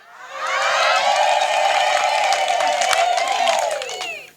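A crowd at a Kikuyu-language church gathering ululates in celebration, a loud sustained high trilling chorus swelling in, holding for several seconds and fading at the end, with scattered claps and cheers mixed in.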